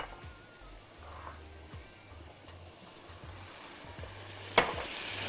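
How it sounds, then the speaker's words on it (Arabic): Spices, coriander and a little sugar stirred into ingredients frying in a pan, a soft, low sizzle with scraping strokes of a spoon and one sharp clink near the end. "نقلب كل الكلام الجميل ده سوا"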